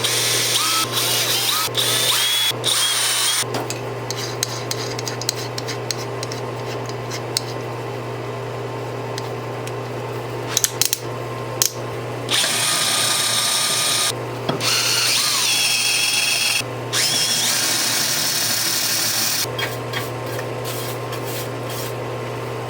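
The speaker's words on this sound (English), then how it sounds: "we're going to drill some pallet holes to get this started" A drill grinds loudly into steel in long bursts, drilling pilot holes for a log arch build, stopping and restarting several times, with brief clicks and pauses between runs.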